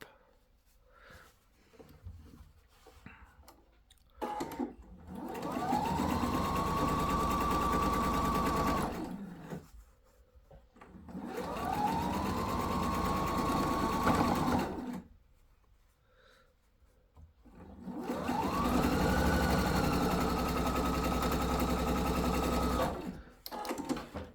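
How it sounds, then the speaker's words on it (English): A sewing machine stitches the seam of a fabric sailor hat in three long runs of steady whirring, each lasting a few seconds with short pauses between, close and fairly quiet. "match up your center seam, and sew round to join them up."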